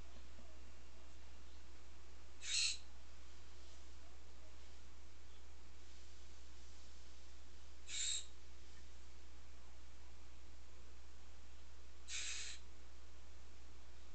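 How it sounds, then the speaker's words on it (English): Three short, bright bird calls sound outside at widely spaced intervals over a quiet room with a low steady hum, fairly faint and with nothing else marking the gaps. "Are you hearing the birds outside, Pizzy?"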